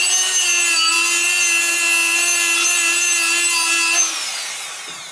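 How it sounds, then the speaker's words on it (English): Steady rasping abrasion of sandpaper on the holes of a rusty Toyota Corolla brake disc, loud and close with a sustained harsh tone for about four seconds before fading, no talk. "I sandpaper also these holes in this my brake disc"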